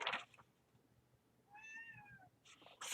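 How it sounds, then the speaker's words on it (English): A house cat gives a single drawn-out meow, close and clear, with rustling and scratching sounds just before and after it. "Something tells me we're going to get a visit from the cat here in a minute"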